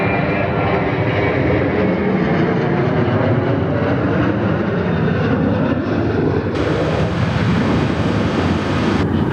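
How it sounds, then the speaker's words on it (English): A fixed-wing airliner makes a long takeoff roll on runway 21 at Perth Airport, its engines a loud, continuous broadband roar that holds steady for several seconds with a brightening hiss toward the end. "Nice long takeoff roll."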